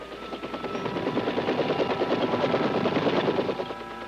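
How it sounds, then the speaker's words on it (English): Army dust-off helicopter rotors thump steadily and loudly amid heavy ground fire during the Vietnam War, rapid bursts of gunfire crackling around them. "In spite of heavy ground fire, Army aviators get in with their dust-off helicopters"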